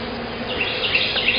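Honeybees swarm in an open hive during an inspection, a dense, continuous buzzing hum close at hand, steady for a brief moment with no voices.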